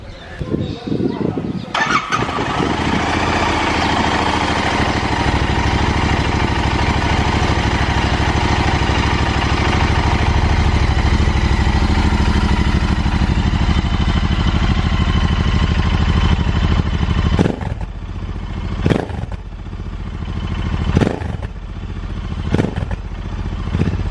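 Royal Enfield Interceptor 650 fitted with an AEW exhaust and dB killer baffles cranks and fires, then settles into a loud, steady parallel-twin idle close by, with a few sharp blips of throttle near the end.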